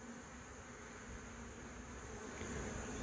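A continuous drone of many honey bees buzzing in a hive, soft but steady throughout, with a high whine layered over the low hum.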